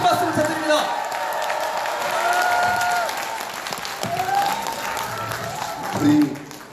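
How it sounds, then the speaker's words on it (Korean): An audience at a Korean book concert in Daegu claps in a steady, moderately loud round. Murmured voices and talk over a sound system run through the applause. "큰 박수 부탁드립니다."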